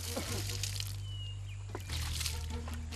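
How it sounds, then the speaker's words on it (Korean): Water sloshes and splashes in a forest stream as woodcutters wash mud-caked motorcycles after a day's logging in the Java jungle, steady close splashing over a low continuous hum. "작업을 마친 후 개울가에 모인 벌목꾼들. 종일 진흙밭에 굴렸을 오토바이를 깨끗하게 세차하기 위해서입니다."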